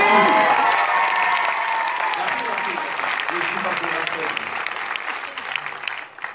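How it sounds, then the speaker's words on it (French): An audience at a film preview gives Rémi a loud, dense round of applause that starts strong and slowly thins out, with voices and cheering mixed in the crowd. "je voudrais qu'on fasse un tonnerre d'applaudissements à Rémi"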